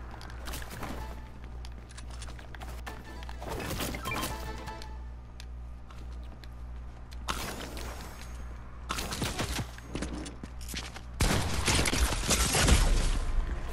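Gunfire in Fortnite, with bursts of sharp shots and rapid volleys scattered over a steady low hum, growing denser and louder toward the end.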